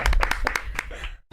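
Studio audience applause on a Spanish-language entertainment talk show, a short, close burst of many hands clapping in quick uneven rhythm that cuts off abruptly after about a second.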